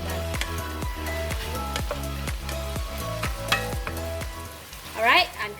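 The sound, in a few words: stir-frying ground beef with basil leaves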